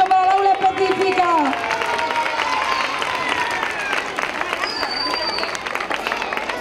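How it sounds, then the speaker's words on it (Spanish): An audience of children and adults applauds at a school Constitution Day celebration, steady clapping mixed with crowd babble and some high voices, fairly close and filling the whole stretch. "un aplauso para la aula específica"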